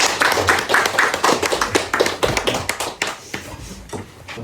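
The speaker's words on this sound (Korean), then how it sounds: "격려의 박수 한번" Villagers at a village general meeting in Yenae village, Narodo, clap in encouragement, a lively burst of close hand claps in quick uneven rhythm that gradually loosens and thins out into scattered claps.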